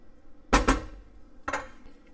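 A spoon scraping and knocking against a pot while beef burgundy gravy is stirred, heard as two short clusters of clanks and scrapes, fairly close, with quiet pauses between them.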